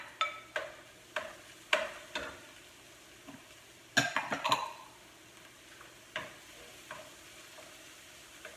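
Chopped green onion goes into a pan and gets stirred, a run of sharp scraping and tapping strokes of a utensil against the pan over a soft sizzle, with a busier cluster of scrapes midway.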